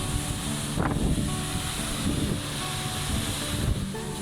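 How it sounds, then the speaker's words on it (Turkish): Water released from a power plant pours as a waterfall from 17 metres beside a stone bridge, heard as a steady loud broadband rush with brief gusty swells, no talking. "Köprünün yanında görülen şelale aslında elektrik santralinden boşaltılan su. 17 metre yükseklikten dökülüyor."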